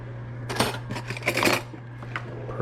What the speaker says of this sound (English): So I'm gonna go ahead and grab a spoon real quick